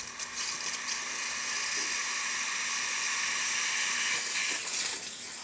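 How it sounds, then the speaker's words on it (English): A Breville espresso machine's steam wand hisses loudly and continuously, a broad airy rush with slight fluctuations, after a service with new O-rings and a new 3-way valve. "Steamer is working perfectly fine as well."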